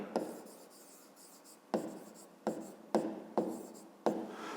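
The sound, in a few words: writing by hand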